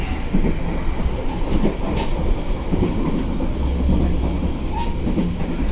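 A JR electric commuter train (KRL) rumbles steadily past close by in Indonesia, with rhythmic clickety-clack of wheels over rail joints and a brief metallic squeal.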